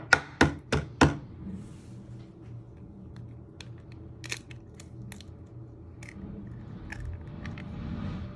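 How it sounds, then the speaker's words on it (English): Four sharp cracks of eggs tapped against a bowl come in quick succession at the start, followed by quieter clicks and shell handling against a low steady hum. "You first want to crack your eggs."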